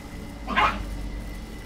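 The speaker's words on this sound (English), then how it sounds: "These fucking dogs." Hostile dogs in the video game Deathloop give a single short bark in the middle of a low, steady game ambience, moderately loud and with no talk.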